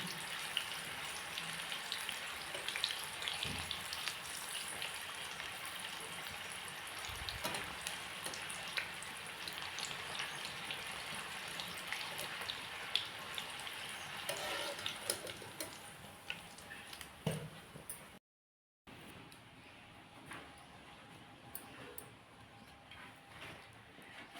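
Green chillies fry in hot oil for bhaji, a faint, steady crackling sizzle with scattered pops that briefly drops out near the end before resuming quietly.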